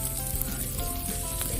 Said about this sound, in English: the pork gyoza dumpling, which arrived sizzling on a cast iron platter